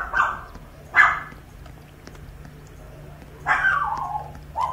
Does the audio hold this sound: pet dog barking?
yes